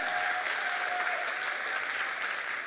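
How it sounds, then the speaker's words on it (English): A seminar crowd gives a round of hand clapping for Dr. Wallach, dense sustained applause from many people filling the room at steady, fairly loud level with no one speaking. "Can y'all give another hand clap for Dr."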